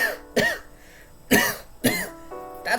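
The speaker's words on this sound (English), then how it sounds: "I felt a cough coming on." A person coughs several times in short, separate bursts, close and fairly loud, with brief pauses between them.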